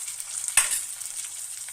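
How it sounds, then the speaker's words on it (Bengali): Onion frying in a pan, a close, continuous hiss of sizzling oil with a single sharp stir or clatter near the middle. "পেঁয়াজটা ভাজা হয়ে গেছে একটু"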